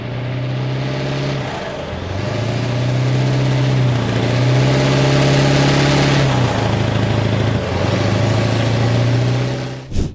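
A British Warrior or CTAS armored vehicle's engine in the video game Squad idles with a low drone, its pitch rising and falling in a few gentle revs before the sound cuts off.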